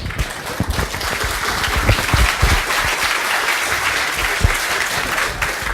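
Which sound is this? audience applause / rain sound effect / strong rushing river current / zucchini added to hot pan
audience applause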